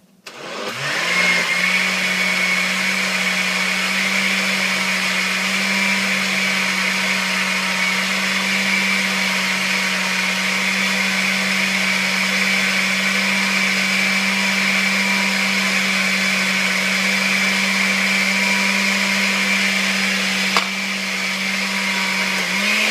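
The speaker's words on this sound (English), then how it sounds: "Alright, so let's get blending." A blender whirs steadily and loudly for over twenty seconds while blending a crawfish and crab bisque, a constant motor drone with no talking.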